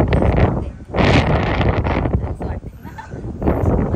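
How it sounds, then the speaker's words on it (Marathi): Cool wind blows across the microphone at a Hindu temple in bright sunshine, a loud rumbling buffet that surges and eases under a person's talking. "ऊन भरपूर आहे पण हवा थंड सुटली"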